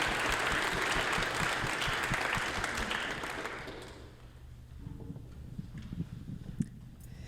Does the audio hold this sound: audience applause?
yes